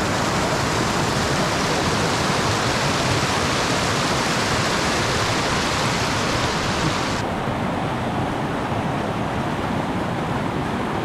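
River water rushes steadily while crossing a river on the Torean trail in Lombok, a loud, close, unbroken roar of flowing water. No one speaks over it.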